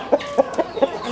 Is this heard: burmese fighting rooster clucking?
yes